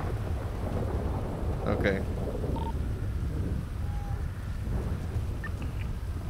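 Rolling thunder with rain in a GTA NoPixel thunderstorm, a steady low rumble and hiss throughout, with a brief word spoken partway through.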